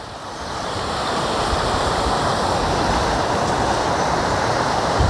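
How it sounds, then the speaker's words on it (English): Running water from a small stream along the Pennine Way fills the air with a loud, steady broadband rush that holds unbroken from start to finish, with no voices over it. "shot of the running water there."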